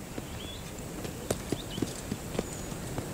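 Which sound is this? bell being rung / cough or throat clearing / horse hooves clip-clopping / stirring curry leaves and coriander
horse hooves clip-clopping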